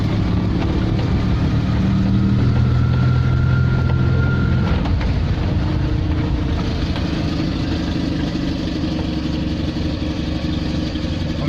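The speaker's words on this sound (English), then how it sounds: "that's a proper idle almost. It's just gone chuggy, chuggy, chuggy again." Invacar engine after a carburettor adjustment, idling unevenly: a steady, loud, close-up mechanical chug and clatter with a lumpy, wavering rhythm throughout, no voices.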